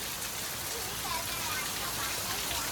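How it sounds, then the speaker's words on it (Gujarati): Heavy rain pours steadily at night during a storm in Patan, a dense, even hiss of drops on surfaces that stays loud and unbroken throughout. "જો વરસાદ કેવો પડવાનો"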